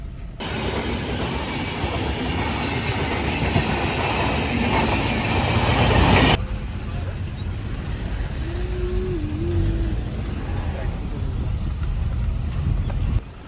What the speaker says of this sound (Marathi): रेल्वेचा क्रॉसिंग लागलंय फाटाक पडलाय आता ट्रेन कधी येईल बघूया आपण